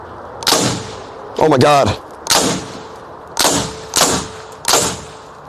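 Five sharp, loud gunshots crack at irregular intervals, fired at a Tesla Cybertruck to test whether it is bulletproof, with a person exclaiming between the first shots.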